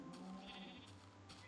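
Sheep bleat in the Minecraft video game on a farm, a steady animal cry running through the whole short stretch over a dense, busy game background, fairly loud and close.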